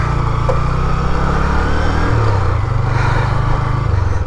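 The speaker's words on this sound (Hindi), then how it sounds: "ये बाइक स्लिप हो रही है बार बार," A motorcycle engine drones steadily and loudly up close as the bike rides a rough, badly broken road of a few kilometres toward Choriyo Mandir in Nagarparkar, its pitch wavering as the tires slip, with wind noise throughout.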